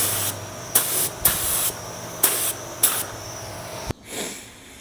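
Spray gun laying a primer coat on a car body panel: five short bursts of loud hissing spray, each about a third to half a second, separated by brief pauses, with a final softer hiss at the end.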